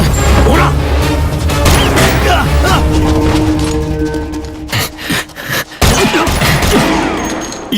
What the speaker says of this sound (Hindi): ये तो गोली ऐसे चला रहे हैं जैसे पटाखे फोड़ रहे हो